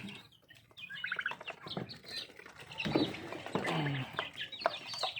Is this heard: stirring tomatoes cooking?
no